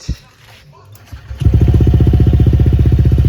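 A motorcycle fitted with a homemade modified air filter cover starts after a few quiet clicks and settles into a loud, steady, close-up putter, with someone speaking briefly before it fires.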